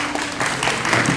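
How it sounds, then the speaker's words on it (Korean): Audience at a hanbok fashion show clapping, a brief, fairly loud burst of applause that swells slightly toward the end. "자, 여러분 큰 박수 부탁드립니다."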